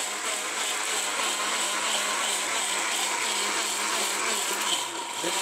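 An Orpat electric blender runs at high power while grinding a paste, giving a loud, steady motor whine that holds constant with a slight dip near the end.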